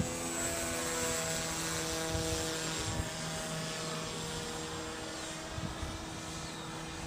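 Peace Drone model aircraft with a gyro flying close by, its propellers giving a steady, continuous motor drone with a few slight surges, heard alone without voices.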